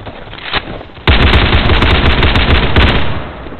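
Loud, close automatic gunfire in the Roblox shooter Unit: Classified: a single shot rings out, then a long rapid burst of rattling rounds runs almost continuously to the end.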